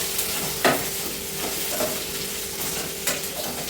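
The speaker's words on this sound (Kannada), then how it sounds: "ಸೊ ಅದನ್ನು ಫ್ರೈ ಆಗಿ ಚೆನ್ನಾಗಿ ಫ್ರೈ ಆದಷ್ಟು ಚೆನ್ನಾಗಿ ಟೇಸ್ಟ್ ಬರುತ್ತೆ" Garlic sizzles steadily in a hot pan while paneer masala gravy is cooked, with a continuous crackling hiss and a few sharp stirring clinks close by.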